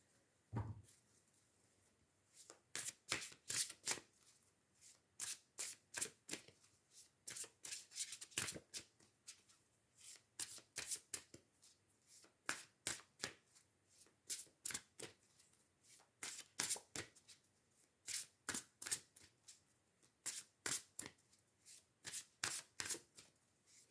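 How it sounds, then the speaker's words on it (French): Tarot cards are shuffled again and again, crisp riffling bursts in a quick irregular rhythm separated by short quiet gaps, close and clear. "Je vais tirer quand même les cartes avec le cheminement de l'âme."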